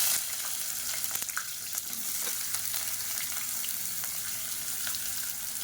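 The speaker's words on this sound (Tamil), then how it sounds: "நல்லா பொரியட்டும்." Spices and sliced onion frying in oil for biryani, sizzling and crackling steadily in a pan, a continuous hiss with scattered pops, close by and without any voices.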